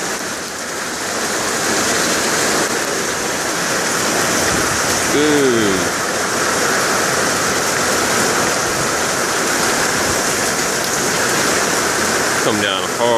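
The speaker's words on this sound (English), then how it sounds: "Holy rain." Heavy rain pours down outdoors in a steady, dense roar that fills the whole clip without letting up, with one brief voice exclamation early on.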